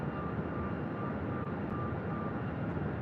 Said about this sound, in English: Next arrival on the north side is American Airlines Flight 2409 coming in from Seattle.